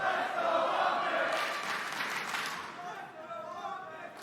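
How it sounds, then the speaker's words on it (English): An arena crowd at a Call of Duty League 2023 Major III esports event cheers and murmurs in a steady, fairly loud wash, with commentators talking over it throughout. "the crowd's like trying to get into it"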